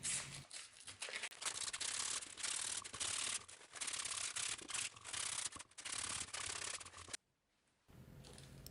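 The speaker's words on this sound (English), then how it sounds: "I used some sandpaper to deburr the holes." Sandpaper rubs back and forth over drilled holes to deburr them, a close, continuous scratchy rasp with short strokes, stopping briefly near the end before resuming faintly.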